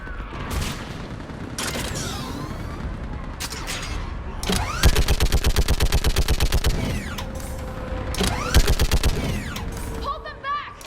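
Rapid automatic gunfire in the sci-fi shooter Mass Effect 3, set on Thessaly-like battlefield Thessia: loud sustained bursts of machine-gun fire with booms and mechanical whines, alternating with shorter volleys, no talk.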